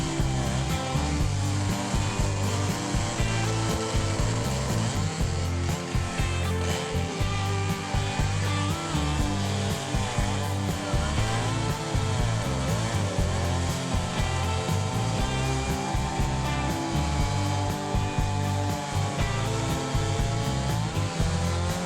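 Chainsaw cutting a feller's notch into a standing tree for lumber, a steady loud engine drone running throughout with no pauses, close and dominant.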